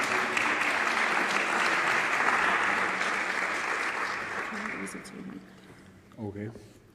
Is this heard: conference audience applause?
yes